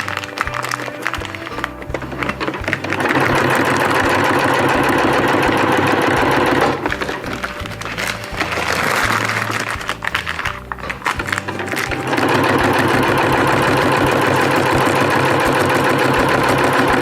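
A sewing machine stitches around a Dyneema stuff sack in loud, close bursts of rapid needle clatter, pausing briefly between runs before starting again.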